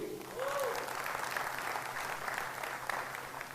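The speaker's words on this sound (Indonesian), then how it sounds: "Tepuk tangan tuh Riwe." An audience at an international leadership training meeting claps, a moderate, steady wash of applause with faint voices and a brief tone underneath.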